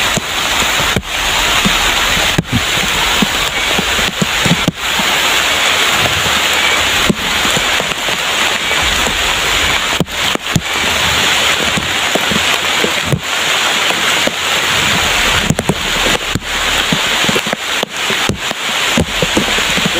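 Rain falls steadily outdoors, a dense continuous hiss on surfaces with occasional louder knocks and wind buffeting the microphone.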